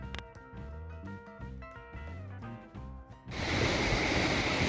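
Waves wash onto a beach at St Ives or Carbis Bay in Cornwall, a loud, continuous roar of surf that cuts in abruptly after a few seconds of melodic music.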